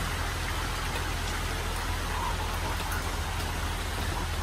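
Steady rain falls on a rainy day outdoors, a dense even hiss of drops with a low rumble beneath it, constant and fairly loud with no talking.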